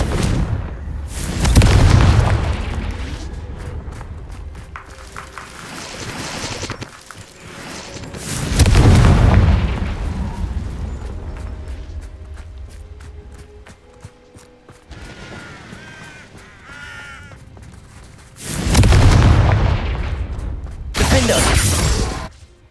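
Confringo explosion spells go off in the video game Hogwarts Legacy, four heavy booming blasts spread out with crackling debris and magical effects in between.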